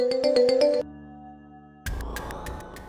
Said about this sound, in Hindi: अल्बर्ट खान का फोन